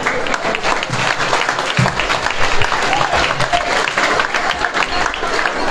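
Audience applause at an anniversary celebration at a marina port, a dense, steady wash of clapping from a sizable crowd filling the whole stretch, with scattered voices mixed in.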